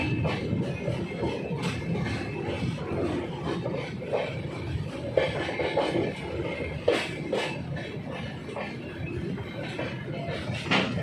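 The Siddhabali Jan Shatabdi Express pulls away from a station with a steady rumbling roll and a scatter of rhythmic clacks and knocks, close and fairly loud throughout.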